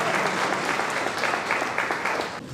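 Audience applause at a book launch held at a governor's house, a steady dense wash of many hands clapping close by, easing slightly at the end.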